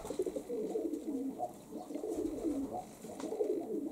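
Open-loft pigeons cooing close by, with soft repeated warbling coos rolling on steadily throughout and no talk.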